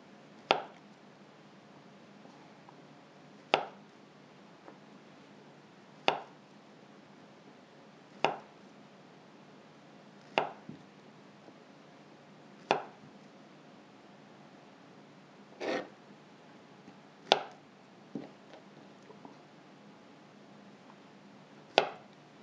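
A knife slices through bananas on a cutting board while making banoffee pie: about ten crisp, close taps at a steady, unhurried pace, each roughly two seconds apart, over a faint hiss, with no talking.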